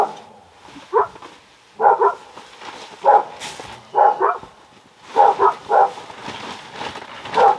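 Dogs at a winter camp barking in spaced single and double barks, loud and near, with their echo ringing back between bursts.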